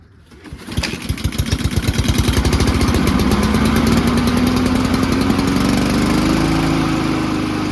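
A Honda lawn mower with a newly replaced recoil pull cord starts on a pull, sputtering briefly before settling into a loud, steady close-up engine run that rises slightly in pitch, with no talking.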